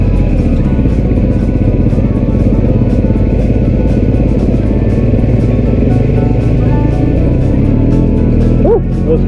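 A motorcycle engine runs steadily on the Isle of Man, a loud, continuous close-up rumble with a rough throbbing texture that holds without pause, a brief higher squeak near the end.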